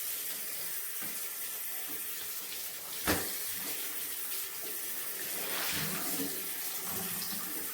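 A tap runs water to wet a mop, a steady close hiss of flow with a sharp knock partway through and the splashing growing slightly fuller toward the end; no talking.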